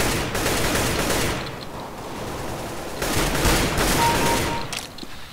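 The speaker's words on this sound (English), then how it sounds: "AK-47, I can hit pretty good shots with this, actually." Rapid bursts of AK-47 gunfire in Counter-Strike: Global Offensive, two loud stretches of automatic fire separated by a brief lull, with no voices.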